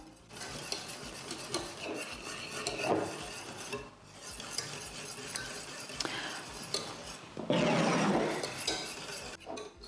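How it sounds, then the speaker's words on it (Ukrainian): Berry curd being stirred until the butter melts, close scraping and clinking of a utensil against a pot or bowl in an irregular rhythm, with a brief louder stir near the end. "перемішуємо до повного розчинення вершкового масла"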